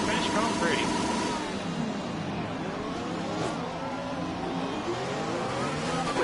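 An F1 car engine in the F1 2020 racing game, a Jaguar Racing team car before a practice start at the Spanish Grand Prix, revs in a steady, loud, busy drone while a voice talks over it.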